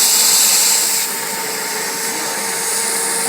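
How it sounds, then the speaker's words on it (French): A steam vacuum cleaner, a SW3 Univap wet-and-dry steam unit, runs steadily up close with a loud, even hissing whine that drops slightly in intensity after a second. "C'est également un aspirateur à eau."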